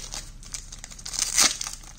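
A Pokémon booster pack wrapper being torn open, close-up crinkling and crackling foil plastic in quick irregular bursts, peaking in one sharp louder rip near the end.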